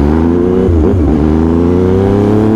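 A 2020 Yamaha MT-09 motorcycle engine revving, loud and close, with a steady harmonic drone that dips and rises in a quick throttle blip partway through before settling back to a sustained roar, with no talking.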